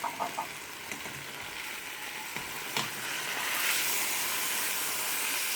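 Marinated chicken seasoned with salt, white pepper, garam masala and garlic sizzles in a pan over a slow flame, cooked without an oven. It makes a steady close hiss with a few light clicks and no talking.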